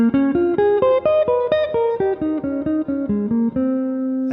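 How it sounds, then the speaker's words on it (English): A smooth jazz guitar solo passage of clean, single-note lines played in a quick run of distinct plucked notes that descend and then settle on a sustained final tone, heard alone with no voices. "almost the last part of this smooth jazz guitar solo"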